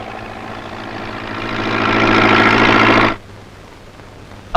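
A tractor engine runs close by with a steady low rumble that swells louder, then cuts off abruptly, leaving near silence.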